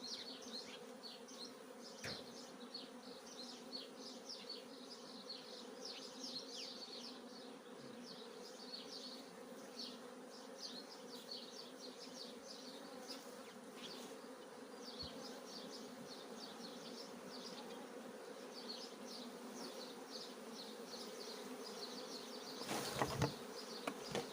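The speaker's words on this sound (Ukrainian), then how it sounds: "І зараз приношу той рій і висипаю наверх цьому." A swarm of bees poured onto hive frames to strengthen a weak colony gives a dense, continuous buzzing hum close by that holds steady for the whole stretch, with a few louder knocks and rustles near the end.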